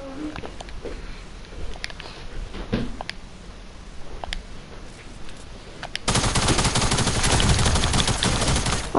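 Rapid bursts of gunfire in the video game Fortnite, scattered sharp shots early on giving way to a loud, dense sustained barrage that fills the final seconds.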